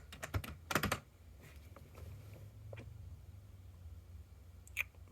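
A password is typed on a computer keyboard: quiet, close key clicks, first in a quick cluster and then as scattered taps, with a faint low room hum beneath.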